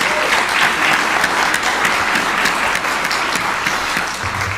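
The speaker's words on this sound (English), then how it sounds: "Let's give them another round of applause." Sustained audience applause fills the room for student and alumni presenters at a university pitch competition finals, steady and dense throughout with no speech over it.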